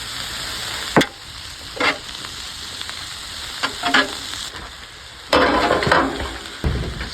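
Garlic, sweet peas and carrots frying on a hibachi grill, with a loud continuous sizzle broken by several sharp scraping and stirring bursts from the spatula.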